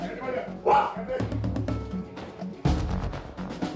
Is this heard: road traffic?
no